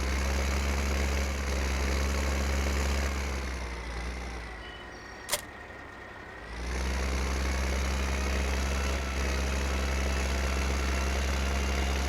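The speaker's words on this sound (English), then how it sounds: "A little bit larger tractor, probably a little bit better for pulling this tipper" A large tractor pulling a tipper drones steadily in Farming Simulator 15. The engine noise dips away for about two seconds midway, where a single sharp click sounds, then the hum resumes at full level.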